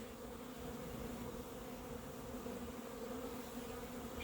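A swarm of honeybees buzzes continuously around a hive box outdoors, a dense, steady drone with no pauses, moderately loud and with no voices.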